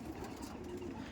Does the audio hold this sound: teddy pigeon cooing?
yes